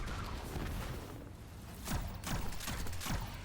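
Heavy artillery fire from a video game boss: a constant roaring wash punctuated by several sharp descending impacts and booms toward the end, loud and close.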